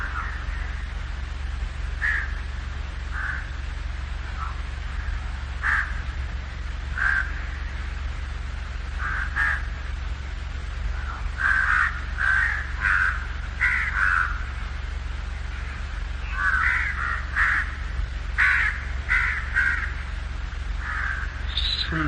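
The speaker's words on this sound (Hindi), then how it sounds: "पक्षियों की वाणी को, सागर के गर्जन को, हवाओं की आवाज को।" Crows caw in repeated harsh calls, sometimes singly and sometimes in quick clusters, at moderate distance over a steady low background rumble.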